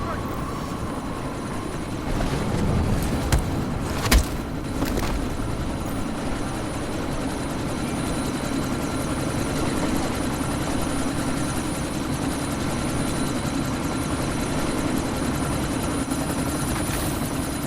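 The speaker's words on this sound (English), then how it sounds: "you need to disable that chopper" A helicopter in the video game Deus Ex: Mankind Divided, its steady rotor thrum droning throughout with a few sharp impacts early on, while voices talk over it.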